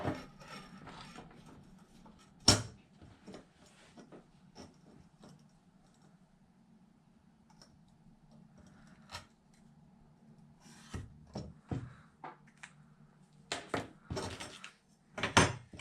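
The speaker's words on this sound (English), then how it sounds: "Except I'm going to have to cut a little bit off the other side." Plastic spare tire mount on a Losi Super Baja Rey 2.0 RC truck being cut and trimmed by hand, heard as scattered close scraping and rasping strokes with sharp clicks and knocks over a low steady hum.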